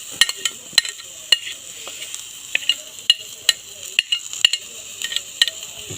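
A utensil stirs a banana flower and mackerel stir-fry in a pan, sharp scraping clinks recurring irregularly about twice a second over a soft background hiss, close and clear.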